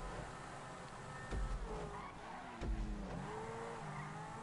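Car engine revving and tires skidding in GTA 5, a steady motor drone with two louder bursts of squeal and impact, loud and close, no talk over it.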